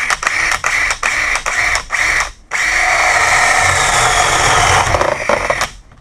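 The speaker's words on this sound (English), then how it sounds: "Let's start drilling." A power drill bores into a hollow door in a few short bursts, then runs steadily for several seconds before stopping, close and loud.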